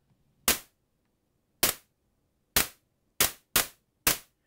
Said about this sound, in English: And we almost have our first clap.